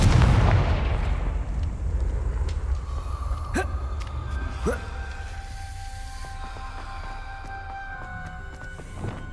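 A deep booming blast from the Confringo spell in Hogwarts Legacy opens loud and rumbling, then trails into a long fading roar with a few sharp cracks and crackles.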